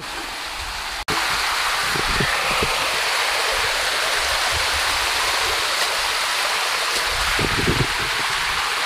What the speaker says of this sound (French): on passe dans la rivière.